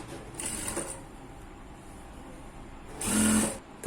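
A sewing machine stitches a 1-inch hem all the way around the leg of ankle-length pants. Two short bursts of whirring stitching are separated by a quieter pause, and the second burst is louder.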